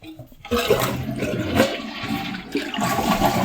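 A toilet tank flushes and drains after the water supply valve is shut off, giving a loud, steady rush of water that runs for several seconds with no one talking.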